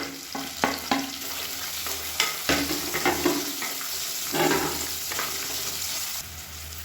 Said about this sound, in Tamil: இப்போ அதில் நீளமாக நறுக்கின ஒரு வெங்காயம் சேர்த்துக்கலாம்.